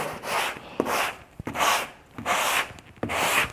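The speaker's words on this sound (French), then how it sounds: "Et je viens poncer proprement le bois." A sanding block with 120-grit paper hand-sands a wooden window frame along the grain, making rhythmic close rasping strokes in a steady back-and-forth pattern, about five passes with short pauses between.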